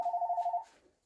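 A telephone ringing in a home garage workshop, a single rapid warbling ring burst lasting just over half a second, then cutting off into quiet.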